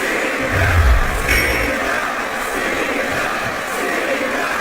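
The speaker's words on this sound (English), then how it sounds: "Sounds like this crowd's got something on their minds, King." In the wrestling video game WWE Smackdown vs Raw 2008, a loud, continuous arena crowd roars and cheers throughout, a dense wall of voices with a brief low thump near the start.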